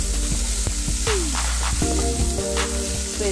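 Onions fry for semolina upma in a pan with a loud, close, continuous sizzle. Scattered pops and crackles rise above it, and a few clinks and soft tonal hums sound in the background.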